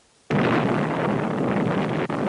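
A Zeus missile's first-stage solid propellant rocket motor bursts into a sudden, dense, continuous roar that stays loud and rough for about two seconds.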